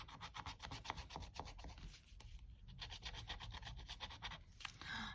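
A scratch card is scraped with repeated rubbing strokes, close and quiet, running through the whole stretch with a short pause in the middle and a brighter scrape near the end; nobody speaks.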